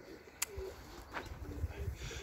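Racing pigeons coo softly and faintly from a loft, a few low murmuring calls over quiet background noise with a brief click.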